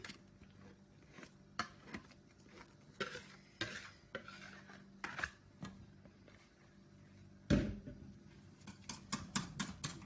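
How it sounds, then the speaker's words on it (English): Ewedu soup, made from jute leaves, being whisked in a pot: repeated sharp scraping and tapping strokes in irregular bursts, close and clear, with no talk. "we've been whisking this for about 20 seconds now"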